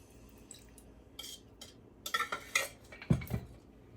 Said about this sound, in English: Now pour the cornstarch mixture into the sugar mixture.